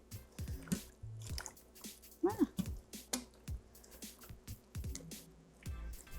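A spoon stirs beef broth with dried thyme in an Instant Pot, giving soft wet sloshing, scraping and squishing noises in irregular bursts, close and fairly quiet.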